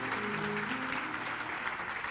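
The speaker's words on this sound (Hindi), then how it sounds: "मैं बच्चों से चाहूँगा कि आप जोरदार तालियां बजाएं अपने असातिज़ा इकराम के लिए" Students at a matric prize distribution ceremony clapping loudly for their teachers, a dense, continuous wash of many hands with a faint murmur beneath and no distinct speech.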